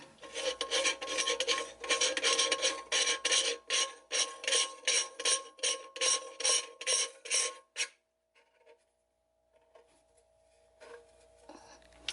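Rasping, rhythmic scraping from tightening plastic rings beneath a sink drain in an off-grid tiny house, a dense run of close strokes for about eight seconds, then near silence with faint handling.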